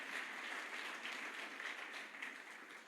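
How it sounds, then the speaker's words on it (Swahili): A crowd at a men's conference gives steady, moderately faint applause for the conference leader, a continuous patter of many hands clapping with no voices over it. "makofi kwake kiongozi wa men's conference"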